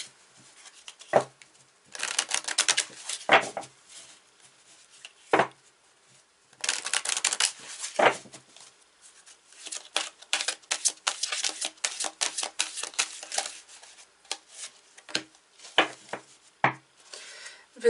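A deck of chakra oracle cards being shuffled by hand close up: repeated bursts of crisp riffling and flicking, each lasting a second or two, separated by short quiet gaps and occasional taps, with no speech.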